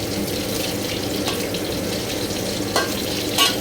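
Thai sun-dried pork (moo dad diew) frying in oil, a steady, loud, hissing sizzle with a couple of brief sharper pops near the end.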